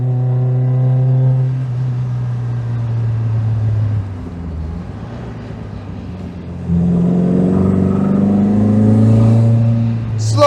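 A modified MGB's engine drones steadily on the road at about 35 mph behind a van, its pitch dropping as it eases off and rising again as it accelerates, loud and close from inside.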